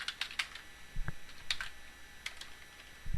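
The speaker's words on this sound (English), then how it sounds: "we're going to type in IP SLA monitor" Commands typed on a computer keyboard for network router configuration, a sparse run of light, close key clicks with uneven spacing and a few heavier taps.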